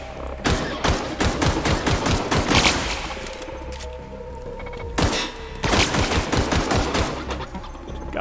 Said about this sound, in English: I am doing damage to them, but very slowly with the pistol